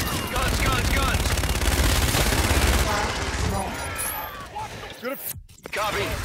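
A helicopter gun run in a tactical shooter: a sustained roar of rapid machine-gun fire that fades after a few seconds, then gives way to scattered sharp impacts and brief radio-style voices.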